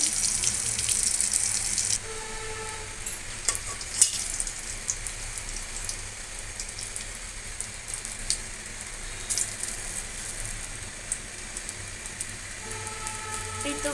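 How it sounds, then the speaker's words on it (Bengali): Sliced pointed gourd (potol) frying in a pan, a steady hiss and crackle of oil running throughout with a few brief clinks, heard alone at close range. "এই তো পটল ভাজি প্রায় শেষের দিকে আমি একটু পরে নামিয়ে নেব পটল ভাজি"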